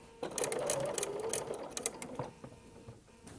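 A sewing machine runs steadily, stitching raw edge binding along the edge of a quilt, with a close, continuous whirring hum that stops abruptly, followed by a few faint mechanical clicks.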